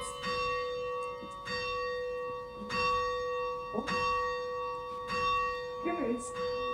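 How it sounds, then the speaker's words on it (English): Church bells rung by pulling ropes strike several times at a slow, uneven pace, each clear tone ringing on over a quiet room with faint speech in the background. "we could try to make some real bell music"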